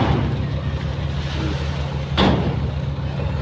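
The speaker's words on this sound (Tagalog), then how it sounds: "Medyo maingay lang dito mga bro at mga naandar ang makina nila." Boat and truck engines rumble nearby at a seashore where sand is being hauled, a steady low drone mixed with wind noise and a brief louder swell.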